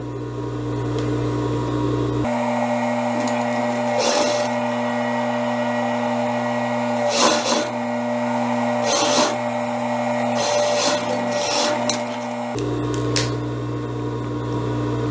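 A sewing machine runs steadily while attaching a sleeve to the back armhole of a peasant-style blouse, a close mechanical hum and whir lasting about ten seconds, bracketed by a lower motor drone and punctuated by a few sharp clicks and thumps.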